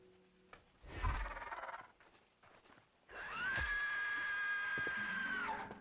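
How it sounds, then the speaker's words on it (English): A creature in the video game Hytale lets out a loud, sustained scream of a few seconds, which rises sharply and then holds steady. It comes after a shorter burst of shrill noise and scattered game sounds. "See the scream?"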